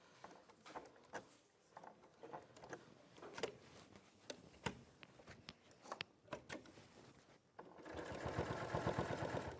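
A domestic sewing machine top stitching at a long stitch length runs in short bursts of rapid mechanical whirring and ticking, starting and stopping, then settles into a steadier continuous run near the end, close and fairly quiet.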